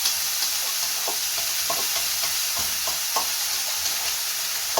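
Peppers sautéing in a pan give a steady, close sizzle, broken by scattered soft scrapes and clinks as they are stirred.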